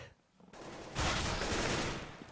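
Counter-Strike gunfire erupting in a dense, sustained burst of rapid shots after a brief quieter lead-in, loud and continuous through the rest of the moment.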